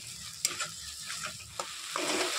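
Onions fry with ginger and green chili paste in a pan, giving a soft continuous sizzle punctuated by a few spatula scrapes and taps.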